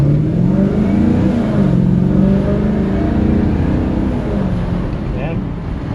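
A Maserati car engine pulls steadily on a short test drive down a road, a continuous low drone that rises and falls slightly in pitch, heard from inside the cabin with some wind rumble.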